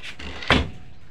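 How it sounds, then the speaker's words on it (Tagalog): A door swung shut at home with a single short thud, close and moderately loud, amid quiet room tone. "Sasara muna natin itong pintuan."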